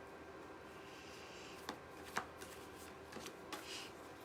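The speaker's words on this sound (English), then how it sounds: "I'm going to go ahead and shuffle the Hebrew cards." A deck of Hebrew cards is shuffled in a quiet room, with soft continuous riffling and a few sharper taps and snaps near the end, faint and close.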